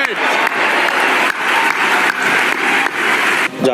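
Steady crowd applause greets India's cricket World Cup win, a dense continuous clapping that swells in repeated bursts with brief dips between them, fairly close and loud.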